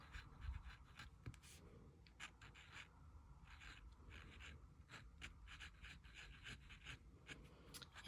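Fountain pen scratching across paper in faint, close, irregular strokes and small taps, continuing quietly for several seconds.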